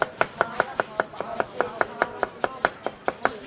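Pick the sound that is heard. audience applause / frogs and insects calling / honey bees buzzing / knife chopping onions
knife chopping onions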